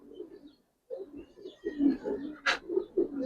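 A pair of Giribaz pigeons coo in soft, low bursts close by, several throaty calls following one another after a short pause, with one brief sharper rustle in the middle.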